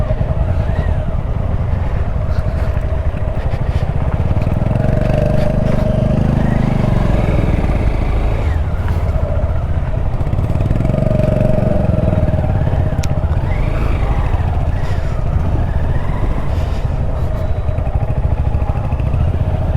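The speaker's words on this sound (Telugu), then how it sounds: "ఎలా తిరుగుతుందో చూడు బైక్స్ అన్నీ" A large group of motorcycles, including a Hero Splendor, rides off-road on a weekend group ride, their engines droning loudly and continuously as revs swell and fall while bikes pass close by.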